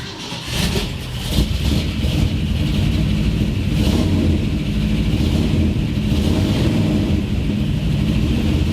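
A 1970 Ford F100 Ranger pickup engine, long sitting unused, being cranked: a loud, continuous, low engine roar close by with a rougher surge near the start, then holding steady.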